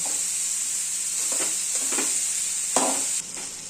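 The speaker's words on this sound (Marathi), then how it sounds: "अगोदर कांदा हाय फ्लेमवर बारीक लाल करून घेऊया" Chopped onion frying over a high flame until browned, a steady close sizzle with a few scraping stirs of the spoon.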